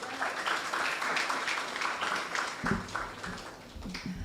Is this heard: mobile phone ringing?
no